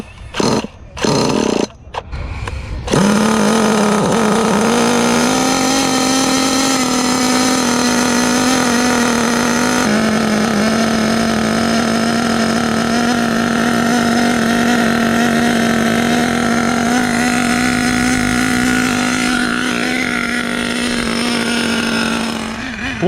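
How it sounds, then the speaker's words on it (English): Small HPI Savage XL K5.9 nitro engine in an RC truck, turned over with a Rotor Start 2 through a few bursts, then catching and holding a loud, steady, buzzing high idle close by, with slight rises in pitch. "Rotor Start 2 has a tough time spinning this motor over"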